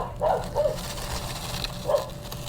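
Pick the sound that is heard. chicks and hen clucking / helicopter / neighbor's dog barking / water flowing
neighbor's dog barking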